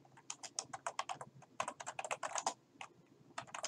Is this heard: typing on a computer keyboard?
yes